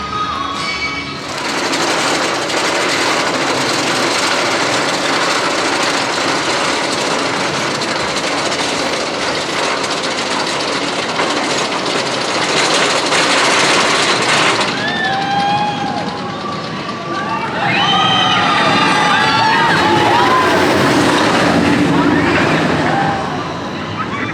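Loud, sustained roar and rattle of the Twisted Timbers RMC hybrid wooden-steel roller coaster at Kings Dominion during a ride, with rushing wind, clattering track and riders screaming and whooping in the later part.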